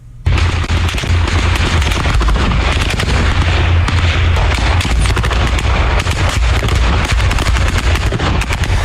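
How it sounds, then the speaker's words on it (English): Fighting in the Donbass region of eastern Ukraine, dense continuous gunfire and heavy booms from artillery crackling and thudding without pause, loud and close, with no voices. "This is what the fighting sounds like."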